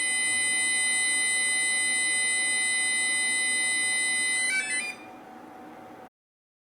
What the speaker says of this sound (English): you present the tag again, which will then start their exit timer and tone